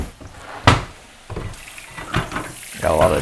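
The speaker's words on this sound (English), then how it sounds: "wash this container that had the raw chicken in it out" A kitchen sink tap runs while a plastic container that held raw chicken is rinsed, with uneven splashing and a few sharp knocks and clatters close by, a voice briefly audible.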